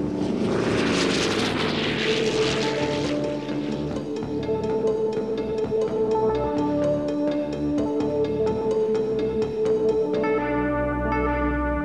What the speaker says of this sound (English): The plane used contra-rotating propellers spinning behind the fins.